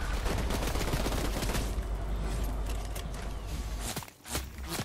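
Fortnite Team Rumble gunfire crackles in dense, rapid volleys of mixed shots throughout, with a couple of sharper isolated cracks near the end.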